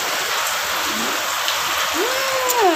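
Heavy rain pours in a steady, dense hiss that fills the whole span, with a brief rising tone near the end.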